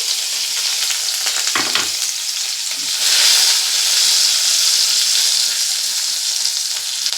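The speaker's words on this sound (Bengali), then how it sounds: "এই রসুনের কোয়াটা তেলে দিয়ে দেবো" Chopped garlic fries in hot ghee with a loud, steady, close sizzling hiss, broken by one brief dull clunk near the start.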